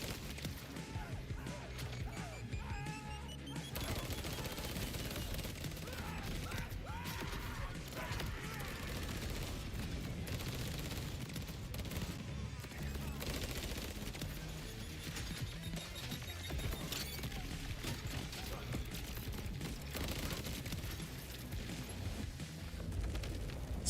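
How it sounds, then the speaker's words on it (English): Dense, continuous Vladof assault rifle fire from Borderlands 4 fills the clip at steady loudness, with crashing, smashing impacts and broad noise throughout and no clear speech. "It is a Vladof, but it shoots like a assault rifle Vladof."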